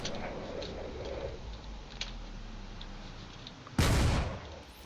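Torpedoes striking the rear of a carrier in the space combat video game Drone Wars, a single sharp, loud blast after several faint ticking impacts over quiet background rumble.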